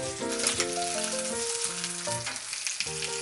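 Chicken thighs pan-frying in a home kitchen, a bright, steady crackle of sizzling fat heard beneath melodic background music.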